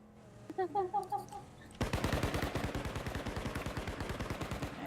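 Rapid automatic gunfire from the video game Fractured Lands: a fast, even burst of close, sharp shots runs for about three seconds, after a short stretch of game sounds and a voice.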